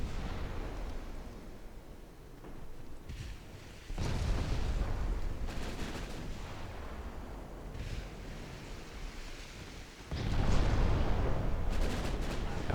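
Warship main guns firing in Ultimate Admiral: Dreadnoughts, a 1955 cruiser battle, with heavy booming salvos at about four and ten seconds over a constant rumble of sea and distant gunfire.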